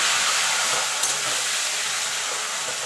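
Taro leaves (kochu shak) go into a hot pan and set up a steady, bright sizzle and hiss of frying that holds evenly throughout, with no talking.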